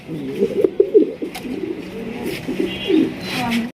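Danish pigeons, including black ones, coo in soft repeated bursts at a close distance, with some background rustling and faint voices nearby.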